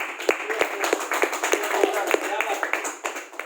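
Scattered hand claps from a seminar audience, uneven and sparse rather than full applause, sounding close and moderately loud throughout.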